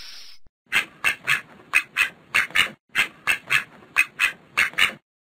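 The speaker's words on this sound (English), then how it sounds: "Ducks." A duck quacks in a rapid rhythmic series of about fourteen loud, close, nasal calls, alone with no other sound.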